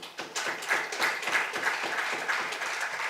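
Rhythmic, steady applause from an audience at a public gathering where a Lord Mayor is present, a close, even wash of many hands clapping in a regular beat for several seconds.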